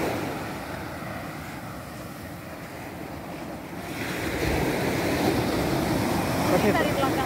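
Surf washing onto a beach beside a camping spot, a steady broadband wash that swells louder halfway through, with wind buffeting the microphone and no voices.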